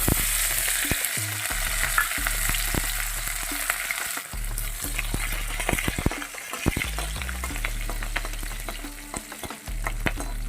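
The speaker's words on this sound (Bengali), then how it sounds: "দেব কুচিয়ে রাখা রসুন আর লঙ্কাটা" Chopped garlic and chili sizzle steadily in oil in a pan, with occasional sharp pops and stirring clicks; no one speaks.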